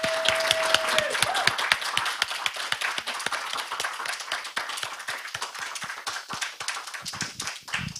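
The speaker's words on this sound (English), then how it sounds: "one last big round of applause" An audience at a primary school claps steadily, with individual claps audible in a thinning round of applause that tapers toward the end.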